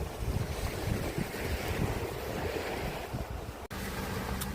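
Ocean surf washes steadily onto Noi Na beach on Koh Samet island, a continuous broad roar mixed with wind buffeting the microphone, with one brief dropout near the end.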